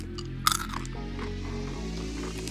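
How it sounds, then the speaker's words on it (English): Candy-coated roasted nuts with cinnamon, sugar and honey crunched once sharply near the start, followed by softer chewing, heard close under a steady background hum. "They're like these candy-coated, just meteorites of just molar-destroying joy."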